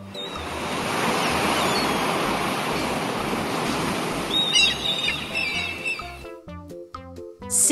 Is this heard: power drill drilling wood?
no